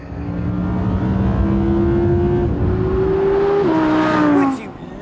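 An Audi R8 coupe in dynamic mode revs hard under throttle, a loud, close engine note that climbs in pitch, steps up through a gear change and then drops away near the end.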